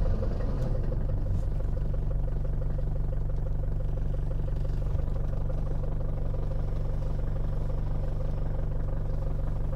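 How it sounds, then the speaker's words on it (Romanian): A 1979 Mercedes W123 240D diesel engine chugs steadily at idle, a low rumbling clatter that stays even throughout, close by with no voices. "Se pune contactul, se așteaptă un pic să se încingă bujiile."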